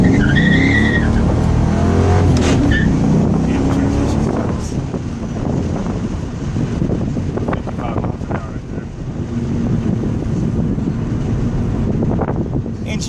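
A Ford Mustang with a stock engine, a modified mass airflow sensor and a fresh tune pulls away and drives off, its engine rising and surging under heavy wind buffeting on the microphone, with some talk mixed in.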